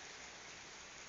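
Steady, hissing rain pours down during a cold front with cyclone, wind and cold in Florianópolis, Brazil, a dense unbroken wash of sound with no voices.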